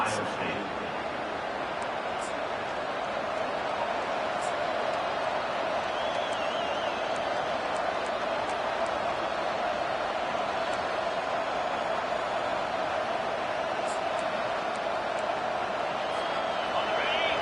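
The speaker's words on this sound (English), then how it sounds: "The roar of the crowd trying to fuel this defense to keep them pinned in their own end" A football stadium crowd roars in a steady, sustained wash of noise throughout, loud and unbroken, with occasional sharp whistles or shouts cutting above it.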